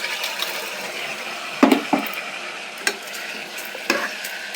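Washed rice stirred in a pan for mushroom pulao, a soft sizzle with scraping spoon strokes and a few sharper clinks against the pan, close and clear.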